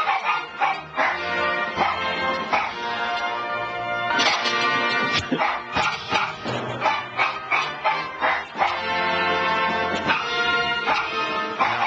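A dog barks over and over in rapid yips and bow-wows, loud and close. The barking runs in bursts across the whole stretch, with brief gaps and no talking over it.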